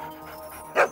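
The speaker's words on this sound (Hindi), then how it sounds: "ये रियाज करते वक्त क्या कुत्तों को साथ में रखता है? सुर में भोंकते हैं यार." A single short dog bark or yip sounds near the end, loud and close, after a faint, quiet stretch.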